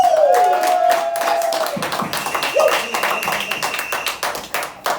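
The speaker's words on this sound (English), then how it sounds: "Big round of applause if you think that Pascal won this battle." Crowd clapping at a comedy roast battle, a sustained round of applause with cheers and shouted voices layered over it, fairly loud and close.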